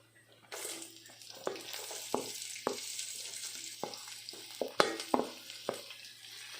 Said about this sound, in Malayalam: നമുക്കതിലേക്ക് സവാള ഇടാം